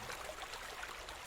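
Steady, faint wash of moving water as a character wades in during The Beast Inside, a continuous trickling flow with no voices.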